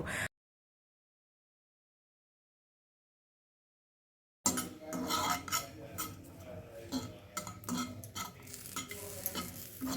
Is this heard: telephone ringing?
no